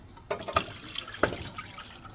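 Water poured with butter into a cooking pot gives a couple of distinct splashes and plops, followed by light trickling and dripping close by, with no one speaking.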